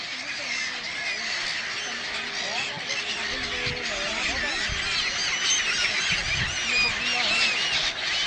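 Noisy chorus of birds honking and squawking nearby, overlapping calls in a dense flock, with some people talking faintly underneath.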